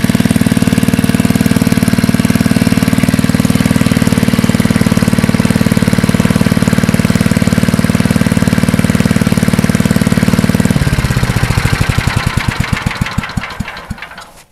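A vintage Craftsman wood chipper's small engine runs loud and steady with a pulsing mechanical knock for about ten seconds, then sputters and slows to a stop near the end.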